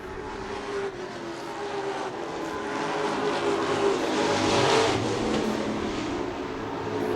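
Stock cars in a Late Model Stock race at Wood Pellet Warehouse circle the track late in the event, a steady, fairly distant engine roar that swells slightly in the middle and stays continuous with no talk.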